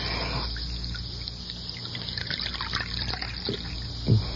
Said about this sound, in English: Let me pour you some coffee.